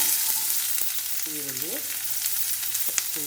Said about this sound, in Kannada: ಇಷ್ಟನ್ನು ನಾನು ಎಣ್ಣೆಯಲ್ಲಿ ಹುರ್ಕೋತೀನಿ. ತವ ಕಾದಿದೆ.